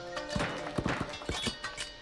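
Horse hooves clip-clopping in the strategy game 0 A.D., a quick series of close, sharp clops in an uneven walking rhythm, heard alone without talk.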